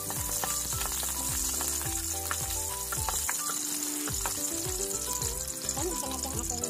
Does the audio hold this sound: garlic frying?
yes